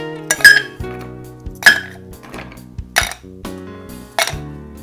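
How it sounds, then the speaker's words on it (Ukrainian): Ice cubes clink and clatter into a metal cocktail shaker in several separate bright bursts over a few seconds, each rattle ringing briefly, with no talking. "Першим додаємо лід в наш шейкер."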